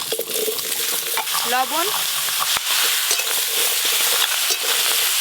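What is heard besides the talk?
frying and stirring ash gourd in a wok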